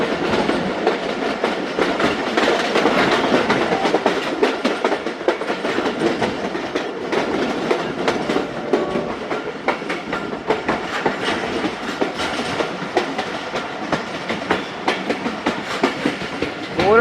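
The Khyber Mail passenger train runs along a double railway line between Chaklala and Golra Sharif, a loud steady rumble with rhythmic wheel clatter on the track throughout, with no talking.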